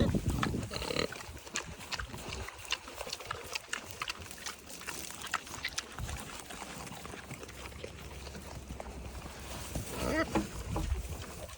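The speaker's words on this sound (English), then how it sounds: "Look at these pigs." Pigs grunt and squeal near alligators amid splashing water and an outdoor murmur, while a person talks over the animals now and then.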